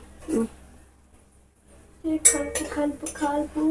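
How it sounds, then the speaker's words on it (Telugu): A metal spoon clinks against dishes while egg curry is cooked: one soft clink, a quiet pause, then a cluster of bright, ringing clinks close by. "స్పూన్ తీసుకో గుంట స్పూన్ ఇక్కడ ఉంది"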